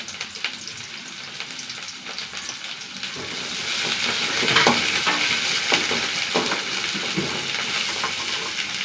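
Curry leaves and small shallots fry in hot oil with fenugreek seeds, a steady close sizzle that swells louder around the middle with scattered pops and crackles, no voices.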